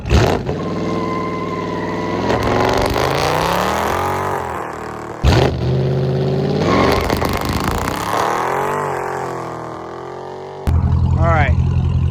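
A Dodge Charger Scat Pack revs up close during a launch control attempt, its loud engine drone holding and swelling in pitch, cutting off briefly and then surging again.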